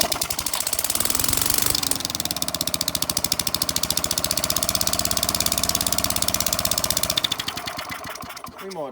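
An old Victa lawn mower with a Tecumseh TVS90 engine runs loud and close with no exhaust fitted, a rapid, rattly, steady firing beat that holds for most of the stretch and then dies away near the end.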